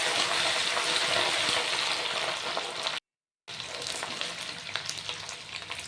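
Green chilli and ginger paste hisses in a hot oil tempering for an eggplant curry, a loud, dense sizzle that breaks off briefly and then resumes slightly quieter with small crackles.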